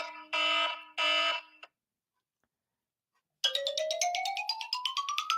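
A loud alarm clock ringtone: two harsh buzzing bursts, a pause of silence, then a rapid rising sequence of bright, chiming electronic pulses played close and clear.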